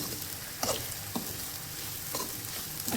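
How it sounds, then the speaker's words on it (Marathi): Potato goes into sabudana khichdi frying with green chillies and peanuts, with a steady close sizzle and a few scraping stirs of the pan. "तर आता मी बटाटा टाकून घेते"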